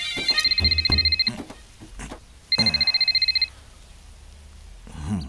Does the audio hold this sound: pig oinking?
no